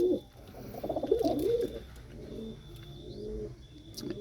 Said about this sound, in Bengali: আর ওটা পিওর নাজরা পায়রা, পিওর অরিজিনাল নাজরা পায়রা।